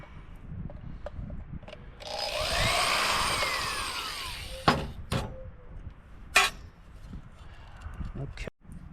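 A power tool whirs for a couple of seconds while backing screws out of a small generator, followed by scattered clicks and handling knocks of parts close by.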